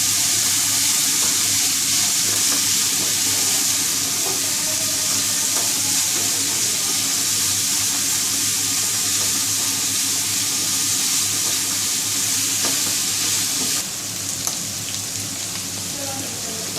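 Ingredients frying in oil for Chicken Manchurian, a loud, dense, continuous sizzle close up that eases slightly near the end.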